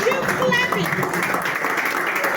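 An audience at a live event in Port Harcourt claps continuously through the whole stretch, a dense steady patter with a loud voice or music layered over it.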